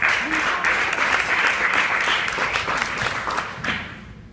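Audience applause at a special election candidate forum in Highland Park, a steady dense crowd of clapping sustained throughout, loud and close, thinning slightly toward the end.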